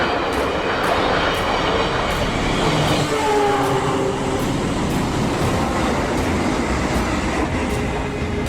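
A KRL commuter train rolls along with a loud, continuous rumble and roar, with faint rhythmic wheel clicks and a brief whining tone partway through, steady throughout with no voices.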